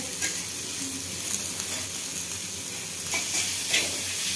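Bitter gourd (karela) slices with masala fry in a pan, giving a steady close sizzle with soft stirring scrapes and small bursts of spattering throughout, without any talk.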